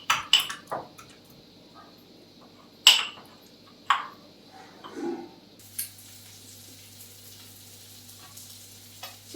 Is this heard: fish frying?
yes